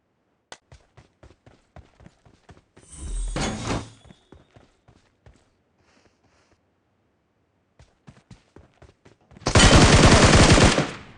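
Rapid bursts of automatic gunfire in the mobile battle royale game BGMI, with sharp repeated shots, a heavier burst around the middle, scattered single shots, and a loud dense volley near the end, all without speech.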